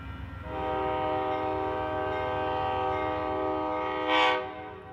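An Amtrak passenger train sounds a long, loud multi-tone horn blast on a Union Pacific route, held steadily near and alone, with rumbling wheels underneath and a brief hissing burst at the end.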